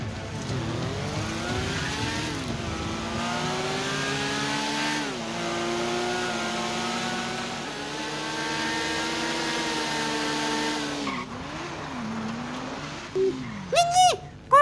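A Cobra motorcycle engine in Garena Free Fire revs loud and close, its pitch climbing and dipping in repeated surges, then cutting out to a few chirpy game effects at the end.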